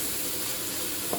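Sarson ka saag frying in oil over medium heat, a brief, dense, steady sizzle with a faint stir near the end.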